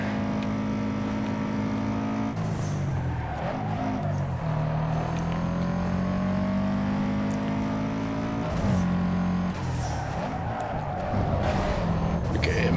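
A tuned street car in the PC racing game Need for Speed Underground 2 roars steadily, its engine pitch climbing and dropping through gear shifts and revs, loud and continuous throughout.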